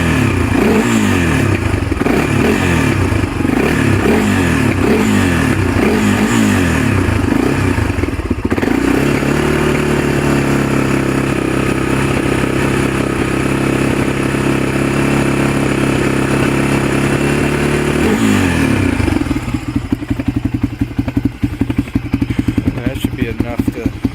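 A cold 1997 Honda TRX300EX ATV engine runs loud and near, with choppy revving blips early on, then a steady held rev that drops back to a lumpy idle.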